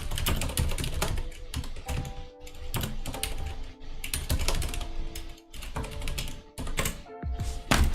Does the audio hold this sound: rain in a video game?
no